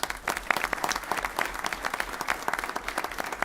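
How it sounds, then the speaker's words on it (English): Sustained applause from an audience at an economic development summit honouring city officials, a dense steady wash of many hands clapping throughout, moderately loud and fairly close, with no talking over it. "can we give you a round of applause?"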